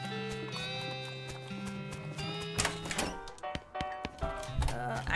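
Game-sound horse from West of Loathing: a tonal musical backdrop with clopping hoof thuds and a whinny near the end, fairly close and moderately loud.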